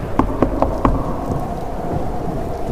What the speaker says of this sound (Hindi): बाहर अभी भी भीषण बारिश हो रही है, बिजली चमक रही है और आंधी की तेज हवाओं की आवाज आ रही है